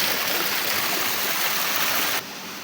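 Spring water gushes and overflows into a collection tank, a loud, close, continuous rushing roar that holds steady before easing slightly at the end.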